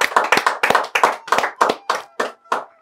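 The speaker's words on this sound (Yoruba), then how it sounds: "Ẹ pàtẹ́wọ́ fún bàbá jù." A studio audience on a Yoruba-language game show claps for Baba Ajobiewe in a steady, rhythmic beat of about ten sharp, close, unison claps that slow slightly toward the end.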